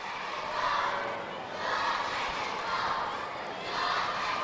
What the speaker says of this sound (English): Go strikers, go, is the cheer.